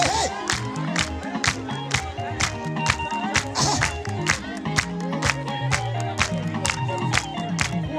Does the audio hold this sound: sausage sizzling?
no